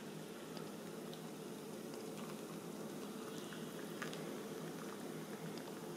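Boiling water poured into a Final Fantasy Cup Noodles cup, a soft, steady hissing patter and trickle with faint crackles, quiet and continuous with no voices.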